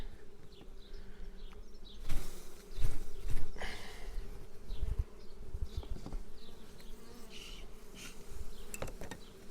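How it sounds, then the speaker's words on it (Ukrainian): Honeybees swarm loudly around an opened hive during an early-April brood inspection, a dense steady buzz filling the air, with occasional louder close passes and faint handling knocks. "Цілий вулик пчоли"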